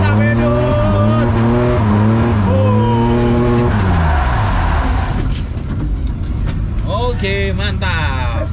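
A drifting car with screeching, squealing tires and a loud engine revving through rising and falling pitches, close and continuous, with tires worn down from the drift.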